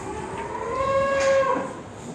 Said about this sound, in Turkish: bes attığımız kangal kuzularımız